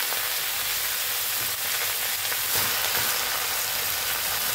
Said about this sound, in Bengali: একটা কড়াই বসিয়েছি, কড়াইটা গরম হয়ে গেছে। পালংগুলো এতে দিয়ে দিলাম